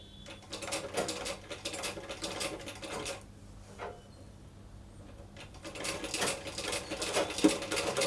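Sewing machine running in bursts while stitching a puff sleeve, steady mechanical whirring that stops and restarts several times, with a short pause mid-clip before resuming louder.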